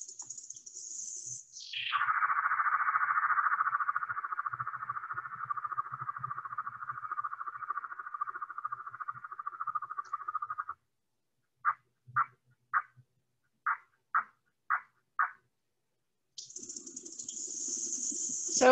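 A grasshopper stridulates by rubbing its wings together: a sustained buzzing trill, then a series of seven short evenly spaced chirps, and a higher buzz resuming at the end, close and faint, with no talking.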